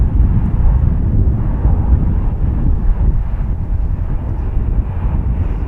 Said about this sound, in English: I believe we've got another Airbus coming in right behind this as well